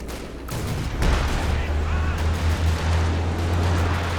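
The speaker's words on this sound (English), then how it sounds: "You have more than enough munitions for zeroing artillery. Here it comes." Artillery barrage in the strategy game Company of Heroes 2, deep rumbling booms rolling in one after another over a continuous low roar, loud and sustained.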